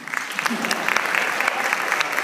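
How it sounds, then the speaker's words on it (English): A school pitch-night crowd applauds steadily, dense clapping filling the whole moment without a break. "So we give a little round of applause."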